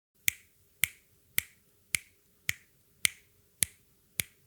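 Eight evenly spaced, sharp metronome clicks mark a song's tempo in a video game. Each is crisp and close, with a short decay, and there is near silence between beats.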